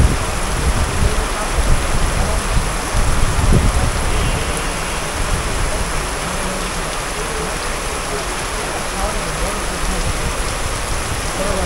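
Heavy rain pours steadily and loudly as a dense, unbroken hiss that fills the whole stretch, with no clear voices over it.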